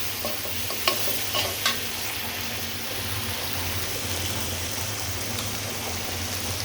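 Spices stirred in a hot frying pan give a continuous sizzle and fry, with a few sharp scraping clicks of the spoon near the start.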